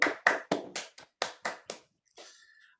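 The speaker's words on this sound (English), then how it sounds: "Give a big round of applause for Lesia for her meeting today" One person clapping over an online meeting connection for Lesia: about nine crisp, close claps in a fairly steady rhythm, then a short pause and a faint trailing sound.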